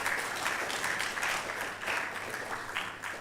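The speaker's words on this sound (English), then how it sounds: "Can we give them a round of applause?" Conference audience applauding the organizing team at a health systems innovation event, a dense steady wash of clapping from a large crowd that holds for several seconds without pause.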